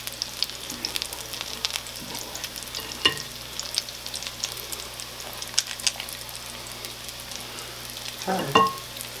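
Oil sizzles and crackles steadily as apple fritters fry, with occasional soft clinks and scrapes from stirring; no talking.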